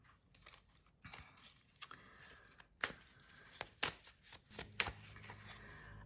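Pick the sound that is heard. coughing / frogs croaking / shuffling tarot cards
shuffling tarot cards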